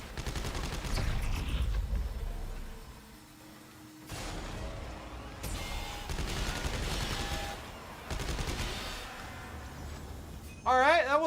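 Rapid machine pistol fire in the sci-fi horror game Dead Space 3 comes in several bursts separated by short pauses, loud and close, amid game sound effects and a sharp electronic sound at the end.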